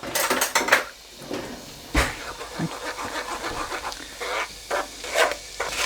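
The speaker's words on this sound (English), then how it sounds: "we're going to actually transfer this masala through a sieve" A spoon presses and scrapes butter chicken masala sauce through a sieve, giving irregular metallic scrapes and clinks at close range, with a few sharper knocks among softer wet pushing sounds.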